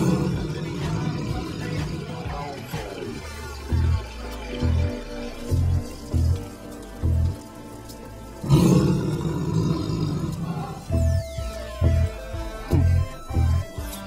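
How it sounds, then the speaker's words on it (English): A tiger roars in a hotel bathroom in repeated loud, rhythmic bursts, about eight evenly spaced growls over a low rumble, with dripping water and scattered background noise between them. "There is a tiger in the bathroom!"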